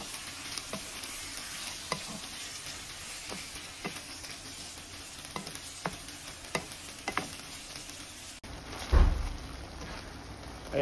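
Shrimp fry in butter and garlic while being stirred, a steady close sizzle broken by regular scraping stirs, ending in a louder clatter.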